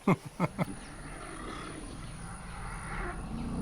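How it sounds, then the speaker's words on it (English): Elephants of one family call a greeting, a few short loud rumbling roars in quick succession at the start, then a low continuous rumbling that builds toward the end. "Now, what are they making noise about right now? That's the Penelope family, and it's their way of saying hello"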